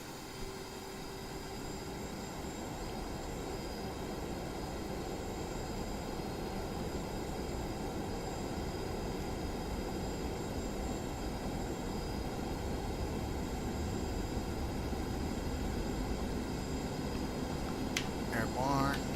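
An F/A-18C jet engine in DCS spools up to a steady, continuous roar that stays fairly loud and even throughout, with a faint voice near the end.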